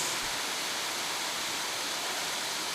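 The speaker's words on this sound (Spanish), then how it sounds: "¿Oro para que pare la lluvia?" Rain falling steadily, a dense even hiss with no breaks or other sounds.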